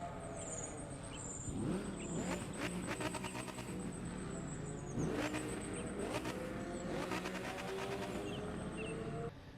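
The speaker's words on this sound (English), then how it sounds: "But let's take a quick listen to that engine." A Dodge SRT Viper GTS engine in The Crew 2 video game revs hard in repeated bursts, climbing and dropping in pitch with a high whine above, loud and close, with no talking.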